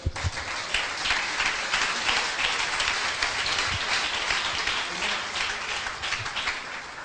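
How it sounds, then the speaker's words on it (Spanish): A church congregation gives loud, sustained applause during a Christian sermon, a dense crackling roar of many hands clapping together with no break for about seven seconds. "Un aplauso fuerte al Señor."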